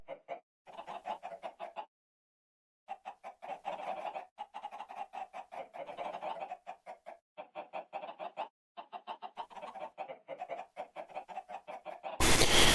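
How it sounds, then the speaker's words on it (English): Minecraft chickens clucking in quick bursts of short, clipped calls, with a brief pause near the start and a loud final burst, alone with no talk. "Chicken, chicken, chicken, chicken, chicken."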